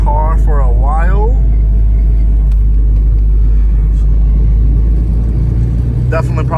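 A Honda Civic engine running rough and in need of a valve adjustment, a loud steady low rumble and drone throughout, with someone talking over it at the start and again near the end.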